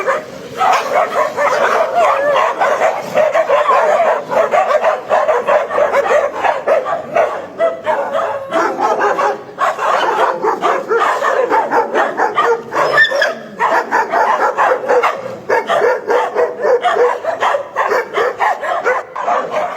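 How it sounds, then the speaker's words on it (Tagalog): Several dogs bark and yip steadily and loudly throughout, with occasional whimpers among the barks and no talk. "Yung aso na yon, yung huling dumating"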